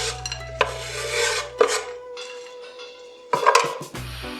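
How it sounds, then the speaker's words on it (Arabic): Chocolate rasped against a grater in a kitchen, producing rough scraping strokes in short bursts with pauses between, fairly close, with occasional clinks of utensils and no talking. "بدنا 150 جرام شوكولا، نبرشن منيح"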